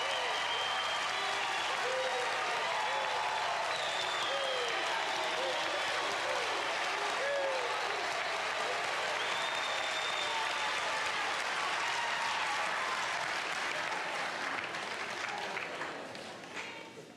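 A large crowd applauding loudly and continuously, a sustained dense roar of clapping that holds at full strength and fades out only at the very end.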